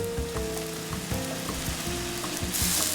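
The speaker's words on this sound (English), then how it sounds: "I'm going straight out of the pot into the next pot." Cooked pasta goes straight from the pot into a hot pan and sizzles loudly and steadily, with soft stirring and scraping clatter running through the frying hiss.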